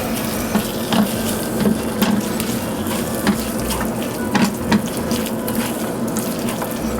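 Cheese melting in a hot pan over medium heat for queso blanco dip, with a low steady sizzle and soft intermittent stirring scrapes, close and moderate in level, no talk.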